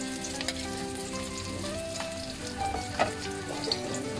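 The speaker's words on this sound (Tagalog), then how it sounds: "Haluin lang natin hanggang sa maluto yung sibuyas. Isunod na natin yung bawang." Onion and garlic sauté in a pan with a steady, loud sizzle and crackle, with occasional spoon scrapes and clinks as they are stirred.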